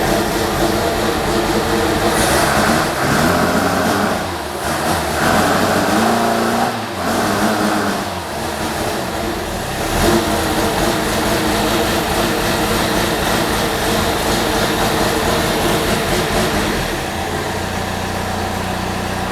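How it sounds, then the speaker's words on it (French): A Renault 9 car engine turning over and running steadily, loud and close, with a rumbling idle that dips briefly and then settles into a continuous drone. "elle a failli démarrer du premier coup en plus"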